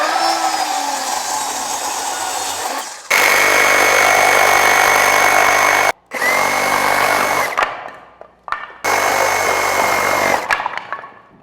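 A reciprocating saw cuts through wood for a wraparound staircase in a barndominium build, loud buzzing bursts with short pauses between cuts and the motor winding down at the end.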